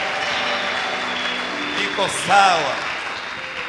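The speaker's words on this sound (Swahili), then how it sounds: "Tupigie Bwana makofi." A church congregation claps steadily through a Sunday service while a preacher speaks over the applause.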